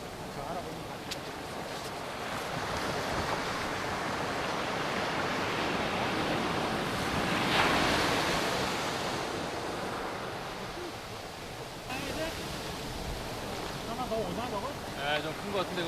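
Ocean surf breaks steadily at a beach during a tandem Hobie Oasis kayak launch, a continuous wash of waves rising and falling over about sixteen seconds with wind buffeting the microphone.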